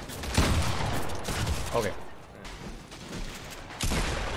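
Gunfire in the video game Fortnite crackles in quick bursts of shots, some loud and close, while a player speaks briefly over the action.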